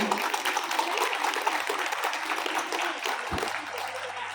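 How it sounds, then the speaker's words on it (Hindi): Sustained applause from an audience welcoming a guest onto the stage at a school platinum jubilee program, a dense steady wash of many hands clapping throughout. "हम जोरदार तालियों से उनका स्वागत करें।"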